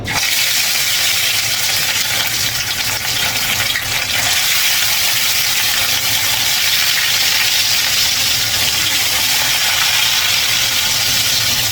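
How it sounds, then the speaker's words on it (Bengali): Pieces of rohu fish frying in oil in a pan, a loud, steady, close sizzling hiss that runs unbroken throughout with no talking. "মাছটা আমি এখন ভেজে নিব"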